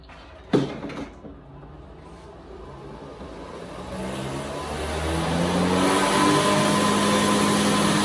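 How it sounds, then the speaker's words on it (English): An Omega air compressor clicks on with a sharp knock, then its motor hum rises and builds into a loud, steady running drone that grows stronger over several seconds; no speech. "here we go with this compressor"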